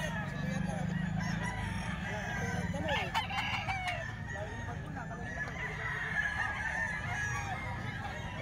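A three-year-old SBR street comb gamecock rooster crows in bursts amid a farmyard, with clucking from other fowl and a steady low background hum.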